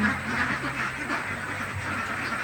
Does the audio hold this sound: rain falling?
no